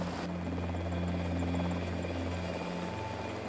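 Steady droning thrum of a rescue helicopter rotor and engine over a ship, continuous and fairly close, with a low hum throughout.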